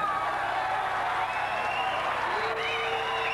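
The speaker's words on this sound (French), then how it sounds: "un joli combat applaudi par les 1000 spectateurs de cette salle de Marcel Cerdan à Bercy" Spectators applaud a boxing bout in the Marcel Cerdan hall at Bercy, a steady wash of clapping from a crowd of about a thousand, with faint voices and a whistle-like tone mixed in.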